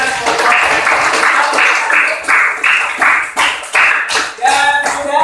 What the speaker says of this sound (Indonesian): tepuk tangan ya untuk kelompok 3